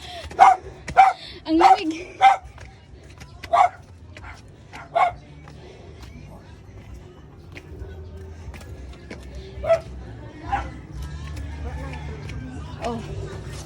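Many dogs barking at once outdoors, sharp repeated barks and yips in bursts that cluster early, then fade to scattered calls near and far, with people talking throughout.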